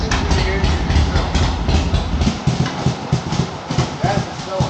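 A vintage American Harley-Davidson motorcycle engine runs steadily with a smooth, even low rumble and a rapid, regular beat, close and loud throughout, with no speech over it.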